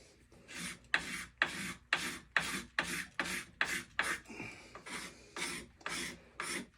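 A hand rasp scrapes excess wood off the sides in about a dozen steady, evenly spaced rough strokes, close and fairly quiet, with no talking.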